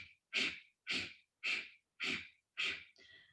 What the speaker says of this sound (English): Now we focus on the exhales in Kapalbhati and the inhales take care of